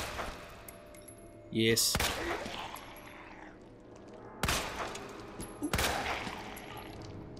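Handgun shots fired in the Resident Evil 2 video game, a few sharp loud bangs spaced seconds apart, each with a short ringing tail, while people talk over the gameplay.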